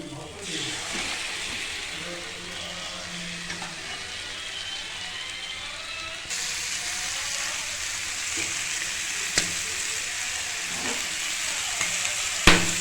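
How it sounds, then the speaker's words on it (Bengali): Spice paste of turmeric, chilli powder, coriander powder and salt frying in a pan, a steady close hiss and sizzle running throughout, with occasional clinks of stirring. "এবার এটাকে ভালোভাবে কষিয়ে নিয়ে মাংসটা দিয়ে দেবো।"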